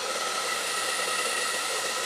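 A small handheld hair dryer, an inexpensive unit, blows steadily and close up with a constant airy whir and no voices over it.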